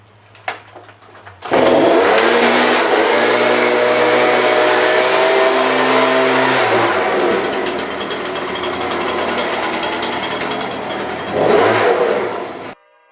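A leaf blower runs loud and steady for most of the clip after a sharp start, its engine note dipping briefly near the end before surging again, with no talk over it.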